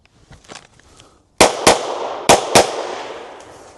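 Reloaded practice ammunition fired on a shooting range target course, four sharp close gunshots in two quick pairs with a reverberant tail after each, preceded by faint handling noise.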